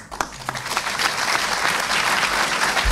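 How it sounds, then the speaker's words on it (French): Audience applause at a French-language lecture, sustained and dense throughout, loud and close, with scattered claps rising into a steady wash. "Vous savez quelle est ma relation avec les applaudissements."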